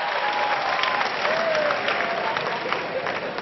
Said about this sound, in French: Les femmes applaudissent pour les hommes ce soir.